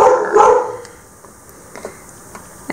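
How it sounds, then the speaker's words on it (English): A pet dog barks once, fairly loud and close, in a quiet room during a polymer clay jewelry session, then the space falls mostly silent with faint small noises. "And there's my dog."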